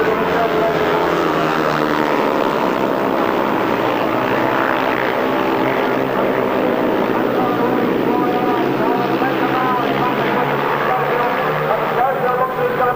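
Solo grasstrack motorcycles race in a final, their engines a continuous loud droning roar carried from across the far side of the track, steady throughout with commentary running over it.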